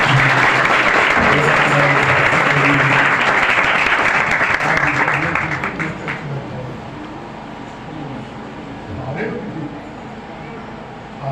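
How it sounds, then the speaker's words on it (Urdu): Loud, sustained applause from a church congregation welcoming a preacher to the service, filling the room for several seconds before thinning out and fading under a low murmur of voices. "میں پھر کہوں گا آپ سب کو زور تالیوں میں ہم خدا کے خادم کو ویلکم کرتے ہیں"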